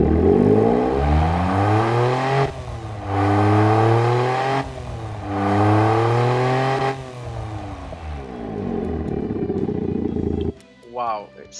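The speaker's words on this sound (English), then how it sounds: "Now let's hear this engine" A car engine in the game Automation revs loud and near in three long rising-and-falling sweeps with a deep, growling tone, then settles to a lower idle before cutting off.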